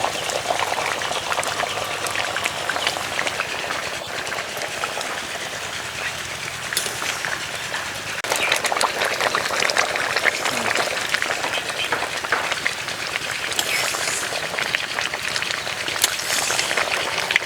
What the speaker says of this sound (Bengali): দু থেকে 3 মিনিট ফুটিয়ে নিয়েছি, এবার দিয়ে দেবো ভেজে রাখা কপি।